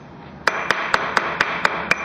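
Old cracked, hollow-sounding concrete floor being tapped with a tool, giving seven sharp, evenly spaced knocks at a quick steady rhythm, close and clear over a quiet background.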